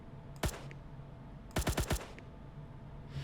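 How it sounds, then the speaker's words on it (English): Gunfire in a Roblox video game: one sharp shot, then a quick burst of four rapid shots about a second later, clear and close over quiet background, with no speech. "Alright, so let's shoot these guys."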